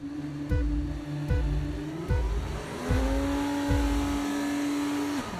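Several F1 24 race cars launch from the grid at a video game race start, the player's car sitting on pole, engines screaming upward through four or five quick gear shifts, each sharp rise cut short by a brief drop, loud and close with no talking.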